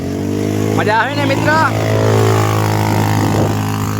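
A motorcycle engine drones steadily throughout while riding on Shivrajpur beach near Dwarka, with a person talking over it near the start.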